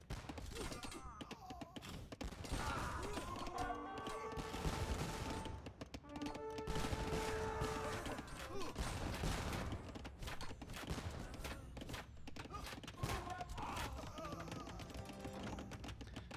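Organ gun volleys fire in an Age of Empires II battle, bursts of rapid crackling shots and thuds repeating amid busy battle noise, with a voice talking over parts of it.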